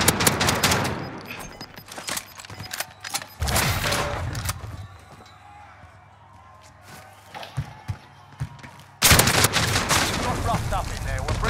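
Bursts of XM4 rifle gunfire in a Call of Duty Warzone match, loud rapid volleys at the start, around four seconds and again near the end, with quieter game sounds and a few isolated shots between.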